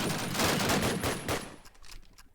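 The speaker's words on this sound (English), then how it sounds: "Lucky trying to check it, but PRM takes him down in the crossfire and takes down Angels as well." Rapid bursts of gunfire from a competitive first-person shooter match in a bomb-defusal round, dense overlapping shots for about a second and a half before thinning into scattered, quieter pops.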